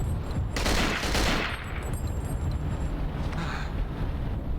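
Gunfire in the video game Cold Fear: a loud burst of shots up close, then a sustained, noisy rumble of action and ambience that carries on steadily afterward.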